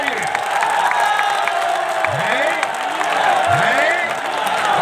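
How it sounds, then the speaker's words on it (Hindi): A crowd at a volleyball match applauds and cheers loudly, with dense clapping throughout while voices shout over it. "एक बार जोरदार ताली लगी"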